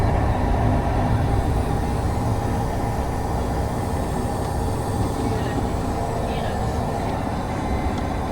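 Passenger train ride in Europe, probably Belgium, heard from inside a carriage as a steady, loud low rumble and rolling hum that lasts throughout with no clear breaks.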